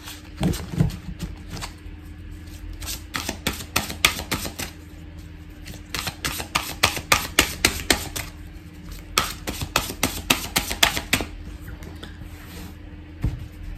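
Oracle cards being shuffled by hand, giving a run of quick papery riffles and slaps in repeated bursts, close and fairly quiet, with no talking.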